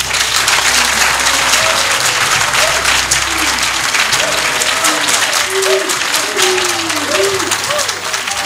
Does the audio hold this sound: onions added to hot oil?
no